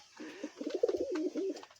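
Soft, throaty pigeon coos repeating in a steady run of rolling calls, fairly close, with no talking.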